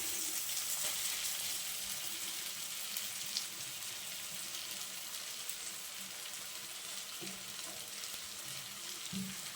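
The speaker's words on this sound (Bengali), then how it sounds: "মশলাটা খুব ভালোভাবে কষিয়ে নেওয়ার পর এখন আমি ডিমটা দিয়ে দিচ্ছি।" An egg goes into a pan of spice masala that is sizzling in oil, giving a continuous soft hiss with faint scattered crackles and no voices.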